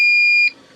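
An APC Back-UPS 500 with a bad battery gives one loud, steady electronic beep of about half a second during its self-test, then cuts off to near silence.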